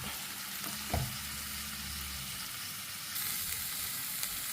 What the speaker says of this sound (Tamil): தேங்காய் இன்னும் கொஞ்சம் நேரம் வதக்கணும் இது கூட ஒரு ரெண்டு பல் பூண்டு கொஞ்சோண்டு புளி போட்டு இதை வதக்கிக்கணும்